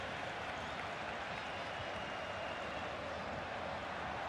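Crowd applause and stadium noise from a FIFA 22 football match: a steady, soft wash of clapping and murmur without a break across the few seconds.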